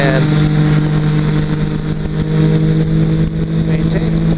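Small engine of a weight-shift trike runs at full power with a steady, loud droning hum and constant wind rush, close to the listener throughout.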